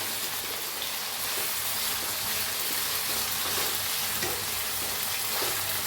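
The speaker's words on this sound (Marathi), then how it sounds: "ह्याला हलवून घेऊया आता।" Potatoes fry in a pan for a masala potato dish, giving a steady, dense, close sizzle that never lets up, with faint stirring scrapes beneath it.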